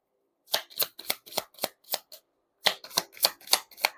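Tarot fortune cards being shuffled in two quick bursts of crisp riffling flicks, about seven sharp snaps, then a short pause and five more, close and clear with no talking.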